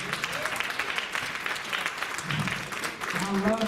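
An audience at a live poetry and comedy show claps in a sustained burst of applause, with a voice speaking over it.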